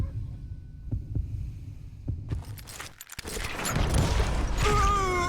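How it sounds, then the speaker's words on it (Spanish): During a duel in Call of Juarez: Gunslinger, a heartbeat beats as steady low thumps that quicken slightly. The thumps then break off into a louder, noisier stretch of game sound with rising tones. "Cuando oigas los latidos podés desenfundar primero, pero será un acto deshonroso y afectará tu puntuación"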